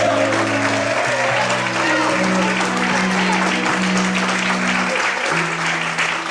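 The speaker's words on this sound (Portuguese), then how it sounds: "Você pode aplaudir o Senhor por isso" A church congregation applauds loudly and continuously during a sermon, the thick clapping spread evenly over several seconds while sustained low musical tones, like a keyboard pad, hold and shift underneath.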